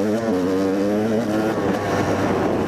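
Enduro motorcycle ridden along a trail in third gear, its engine note droning loud and close, with a steady tone that shifts slightly and then gives way to rougher, noisier running.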